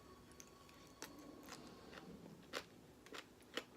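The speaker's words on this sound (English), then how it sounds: "You hear that crunch from the cabbage?" Close, quiet crunching bites of raw cabbage in an egg roll in a bowl, several sharp crisp crunches spaced irregularly over faint background hiss.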